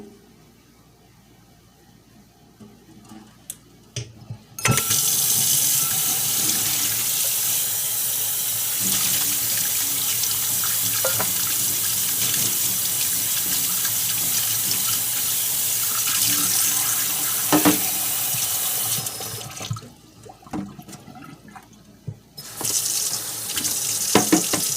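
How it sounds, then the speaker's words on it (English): Tap water runs steadily into a strainer of jackfruit being rinsed, a continuous broadband rush lasting most of the clip, with quiet moments before and after and brief breaks near the end. "Now we're gonna strain and rinse our jackfruit."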